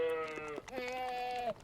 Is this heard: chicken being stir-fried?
no